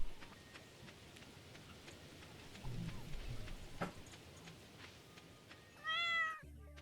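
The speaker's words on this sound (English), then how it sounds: "Where's the kitty? I heard my kitty." A cat meows in the Stardew Valley video game, a short, fairly clear call near the end, over soft rain ambience and faint game sounds.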